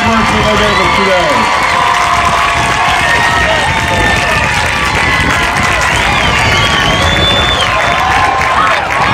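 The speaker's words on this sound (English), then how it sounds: "Let's have one more round of applause for all of our young people and the hard work that they gave us today." Loud, sustained applause and cheering from a large crowd at a music education marching competition, dense clapping mixed with shouts and youthful voices throughout, close and continuous.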